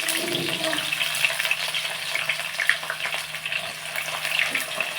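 Onions and green chillies frying in a pan for a Telugu home-style curry, giving a steady broadband sizzle that runs the whole time at moderate loudness, with no voices over it.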